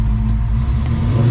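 A 1969 Chevelle muscle car with a Tremec 5-speed revs its engine in a steady, loud, close-up roar with a deep throaty rumble, heard alone.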